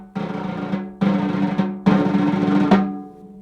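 A snare drum plays dotted-quarter buzz rolls in a musical phrase: three long, dense, close rolls of sustained buzzing separated by brief silences, the last one ending in a crisp accented release, with nobody talking.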